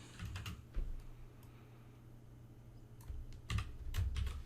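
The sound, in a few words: typing on a computer keyboard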